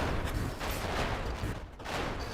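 Video game explosion sound effects, a dense barrage of booming, crackling blasts layered over one another, loud and continuous with a brief dip.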